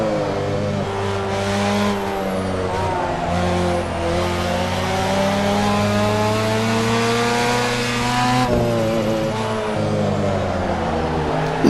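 Tuned Mazda RX-7 in Assetto Corsa racing against a Corvette C7, its engine note loud and continuous with rising rev sweeps and shifts, a sharp gear change near the end, plus faint tire noise.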